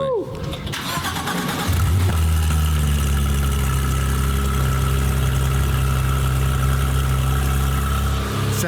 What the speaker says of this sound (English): here is a quick video of them just on a startup and them just idling